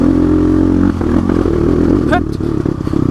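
A motorcycle engine rumbles loudly up close as it climbs a rough jungle road in a national park, with revs rising and dipping, clattering bumps and a voice talking over it.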